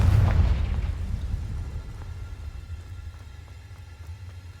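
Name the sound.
Confringo fire spell explosion in the Hogwarts Legacy video game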